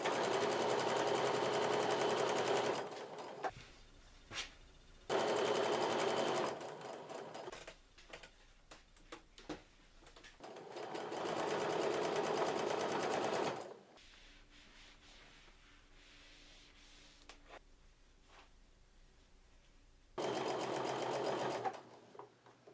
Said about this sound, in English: And so I'm going to sew these together.